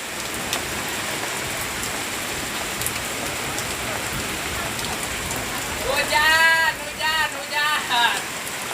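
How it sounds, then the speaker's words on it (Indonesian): Heavy rain with wind pours steadily onto a village tent area in a dense hiss, with brief bird-like chirps and faint voices surfacing near the end. "Hujan guys, hujan."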